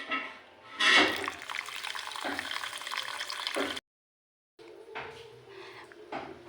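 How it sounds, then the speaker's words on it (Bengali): Gobindobhog rice being washed in water: splashy sloshing and trickling, loudest near the start, then a brief silence before quieter swishing resumes. "চালটি আমি জল দিয়ে ধুয়ে নেব।"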